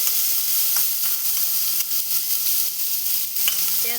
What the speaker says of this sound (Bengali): তেলটা গরম হয়ে গেছে, এর মধ্যে গোটা জিরে ফোড়ন দিয়ে দিচ্ছি, আর এর মধ্যে একটা বড় মাপে কুচনো পেঁয়াজ দিয়ে দিচ্ছি।